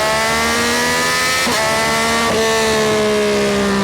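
A Yamaha R9 motorcycle engine revs loud and close, a steady high drone whose pitch jumps twice as the throttle is blipped, then settles into a sustained higher whine.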